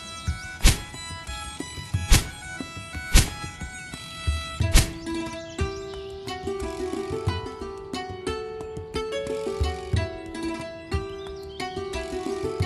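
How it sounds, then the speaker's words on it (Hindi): An axe strikes wood in steady, spaced thuds, about one per second, while a cartoonish musical score plays underneath. "मेरे हिसाब से यही पेड़ ठीक रहेगा, चलो इसे ही काट लेता हूँ।"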